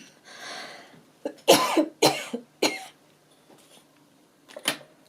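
A woman coughs several times in short, sharp bursts close to the microphone, with a brief throat-clearing and quiet gaps between the coughs.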